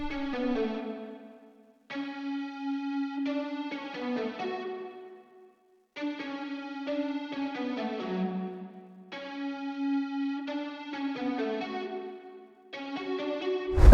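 Beat loop for an alternative rap track, bright synth or guitar-like chord phrases processed with compression, EQ and reverb, playing in repeating bursts with short silent gaps between phrases.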